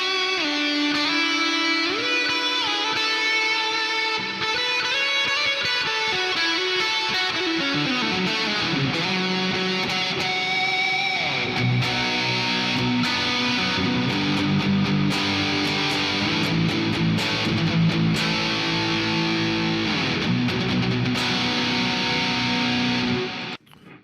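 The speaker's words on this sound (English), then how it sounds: "this little button here puts you into deep, just a very deep pool of reverb" Electric guitar notes and chords ring out, swelling into a wide, washy wash of heavy reverb that sustains and blurs each phrase together.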